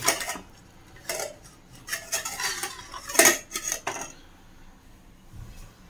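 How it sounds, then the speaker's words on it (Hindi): A lid is placed over a pot of groundnut amti in a home kitchen: a run of close metallic clinks and scrapes, with one sharp, louder clank midway, then a few lighter rattles before it settles, with no talking. "तो आमटी को पहले मैं ढककर रख देती हूँ।"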